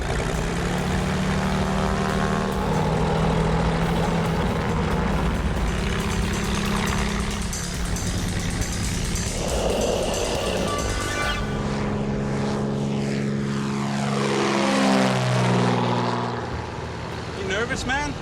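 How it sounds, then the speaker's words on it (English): A propeller airplane packed tight with passengers fires up and climbs, its engine a steady loud drone throughout, with a pitch sweep late on as power changes, while people talk over it in the cabin. "as the plane climbs"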